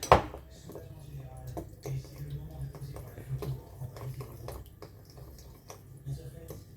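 A utensil scrapes and taps against a pot while milk is stirred into a warm chocolate mixture, soft irregular clinks with a sharp knock at the start, under someone speaking.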